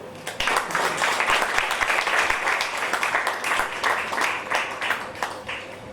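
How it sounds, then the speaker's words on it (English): An audience applauds at an art exhibition at the J J Institute of Applied Arts. Dense, sustained clapping from many hands fills the whole six seconds at an even level and fades slightly near the end. "Let's have a big round of applause once again"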